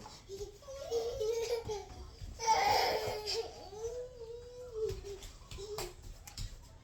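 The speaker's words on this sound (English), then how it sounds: "my little baby's getting mad back there" A baby fusses and whimpers in the background with rising and falling wails, fairly faint, interrupted by short pauses.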